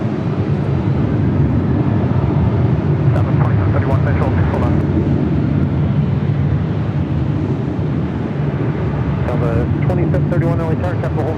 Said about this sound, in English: This flight coming in from Memphis, landing at 25 left